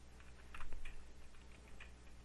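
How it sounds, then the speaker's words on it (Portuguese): Brief, quiet clicks of typing on a computer keyboard while entering code in VS Code, a few scattered keystrokes over a faint hum, no voice. "Então nós vamos vir aqui e digitar"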